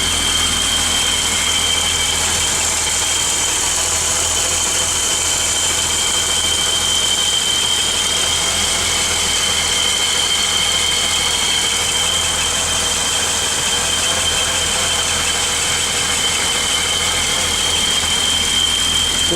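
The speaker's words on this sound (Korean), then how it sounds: "아주 안정적으로 돌고 있는 엔진이에요. 엔진 소리 부드럽죠" A BMW 635CSi idles steadily inside a garage, a smooth, even engine drone with a faint high whine running over it, held unchanged throughout with no voices.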